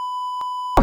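A steady electronic tone holds at one pitch almost without a break, with a short click partway through, before a sudden burst of noise cuts in at the end.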